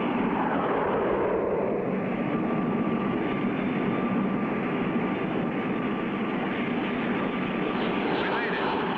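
Cartoon airplane flying in to land, a steady continuous engine drone holding at an even, fairly loud level throughout, with no breaks.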